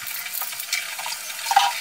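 Ginger, garlic and green chilli paste hitting hot oil with fried onions in a pan for a prawn curry, a steady soft sizzle with occasional scrapes of a spoon stirring, and no one speaking.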